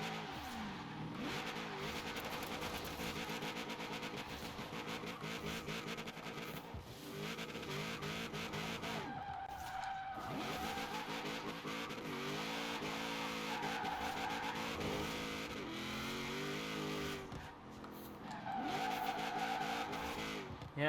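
Widebody Honda S2000 drift build in Forza Horizon 4, its engine droning and shifting pitch continuously while tires squeal in repeated bursts over the whole stretch, steady and fairly loud with no talk.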